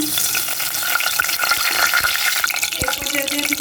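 Whole spices, black cardamom, star anise, bay leaf and a piece of cinnamon, fry in hot oil with a steady, close hiss and a few scattered stirring clicks throughout.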